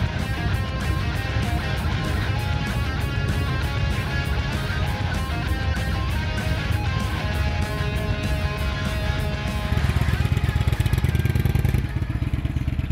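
A motorcycle engine runs steadily throughout, a mid-pitched drone with a rapid regular pulse that grows a little louder and rougher toward the end, with no voices.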